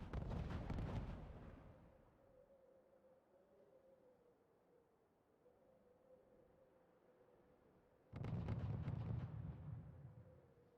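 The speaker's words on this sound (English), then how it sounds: "Artillery anti-air base. Artillery and a flak 88." Artillery fire booming in the strategy video game RUSE, two loud heavy blasts with rumbling tails, one at the start and one near the end, separated by a quieter stretch with a steady hum.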